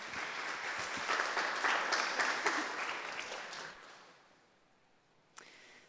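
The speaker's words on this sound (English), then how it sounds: "let's have another round of applause" Audience applause at a fashion talk event, a full round of clapping that swells, then tapers off into near silence before a brief sharp knock and quiet room tone.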